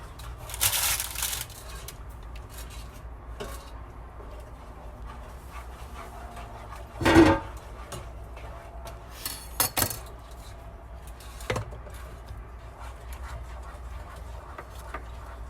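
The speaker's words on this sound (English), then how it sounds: "It's getting easier to stir though." A spoon stirs a thick mixture in a pot on the lowest heat, giving sparse scrapes and clinks against the pot at irregular intervals over a quiet, low background.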